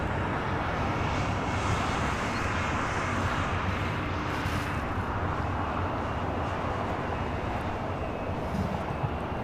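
A China Airlines Cargo Boeing 777 freighter takes off at LAX bound for Taipei, its engines giving a loud, sustained roar that stays strong and steady for the whole stretch.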